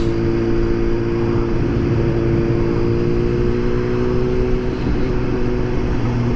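A Suzuki GSX-S 750 fitted with a Power Commander 5 custom tune hums steadily in fourth gear at about 41 mph, a smooth, even engine drone with wind noise and no surging.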